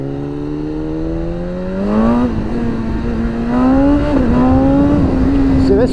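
A BMW S1000RR sport motorcycle accelerates hard, its loud, close engine note climbing steadily in pitch with a brief dip between gears, over a rush of wind noise.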